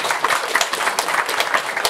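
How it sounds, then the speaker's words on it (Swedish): Audience applause at a Swedish stand-up comedy special, a dense patter of many hands clapping throughout, steady and fairly close, with a faint murmur of the crowd mixed in. "Applåderar ni som har sett den."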